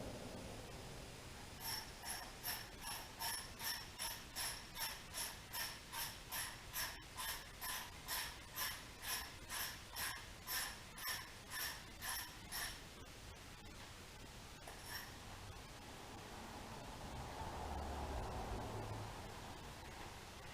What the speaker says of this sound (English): what I like to do is run a tap through the holes to clean out the threads